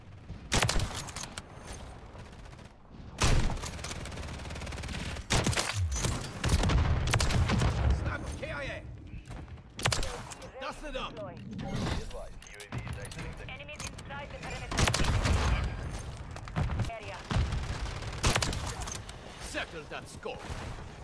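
Sharp Kar98k rifle shots and other gunfire crack repeatedly in a Call of Duty MW3 match, scattered over the span amid game explosions, with a player talking over the action.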